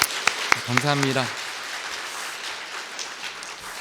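A room of people at a church youth worship service claps in a steady patter that continues for several seconds, while a voice says a brief phrase near the start.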